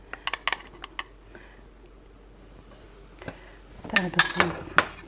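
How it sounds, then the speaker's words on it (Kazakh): Flour roasting in oil in a frying pan, stirred with a utensil that gives scattered light clinks and scrapes, growing into a denser, louder cluster of clatter near the end. "Енді үстіне ұн қуырып жатырмыз."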